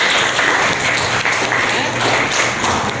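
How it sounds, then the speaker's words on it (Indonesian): Applause from a classroom of students, a dense, steady wash of many hands clapping at a fairly loud, even level for about three seconds, congratulating a student group. "Oke, tepuk tangan untuk kelompok 1."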